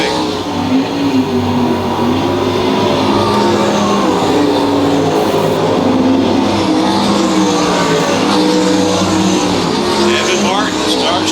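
ASCS Warrior sprint cars race around Lakeside Speedway in a B feature, engines roaring continuously and loudly as the field passes through lap traffic, with a commentator talking over the noise.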